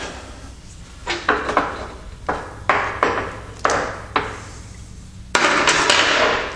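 Someone taps on a Berkeley marine jet drive pump cap to pop out its grease seal. About eight sharp, ringing metallic knocks land one at a time with short pauses, ending in a louder, sustained clatter.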